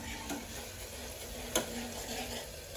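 Onion, tomato and chilli tempering for dabeli masala frying quietly in a pan, a low steady sizzle with a single sharp utensil tap partway through.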